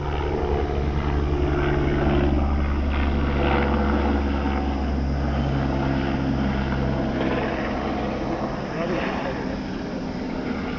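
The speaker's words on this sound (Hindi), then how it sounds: "ये आ गया हेलीकॉप्टर" Helicopter passing overhead during a traffic jam on a road trip toward Kedarnath, a steady loud rotor and engine drone filling the whole stretch over road and traffic noise, with voices faintly present.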